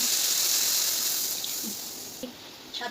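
Broth ladled a little at a time into hot spiced oil and cooked-down mustard masala for an ash gourd curry, giving a steady broadband hiss that fades gradually, with a few small pops and splashes.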